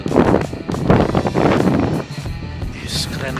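Strong gusty wind buffets the microphone outdoors in Solok, West Sumatra, a loud rumbling roar that swells and dips over a few seconds while someone talks through it.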